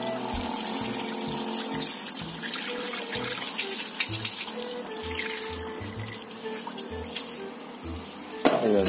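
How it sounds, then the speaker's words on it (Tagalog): Tap water runs steadily into a pot of uncooked rice, a continuous close splashing and trickling stream with small surges and a brief clatter near the end. "lagyan na po natin yung tubig"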